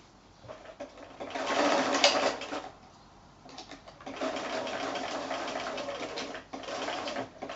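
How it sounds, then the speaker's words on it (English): A sewing machine stitching across the ends of a quilted fabric pocket bag, whirring steadily in two runs separated by a short pause, close and clear with no talk. "I'm going to just stitch across there to hold them in place."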